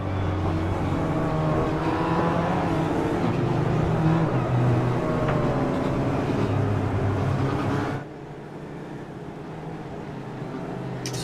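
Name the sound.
race cars on pace lap in video game iRacing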